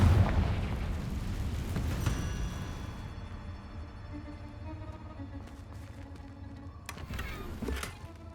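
A Confringo blasting spell goes off in Hogwarts Legacy with a strong opening burst that fades into a low, rumbling decay, followed by a quieter second pop near the end.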